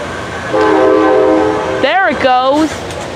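Amtrak P029 passes close by at Harpers Ferry, West Virginia, sounding a long, loud multi-tone horn blast followed by a shorter blast whose pitch bends as the train moves.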